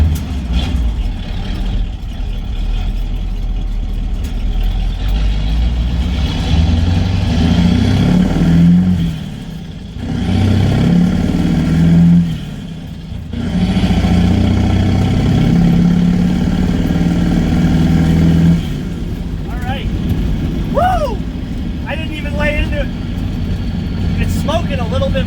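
A medium duty truck with a CAT 3208T turbo diesel pulls away in second gear high range. The engine drones loudly and steadily from inside the cab and dips briefly during shifts as someone talks over it.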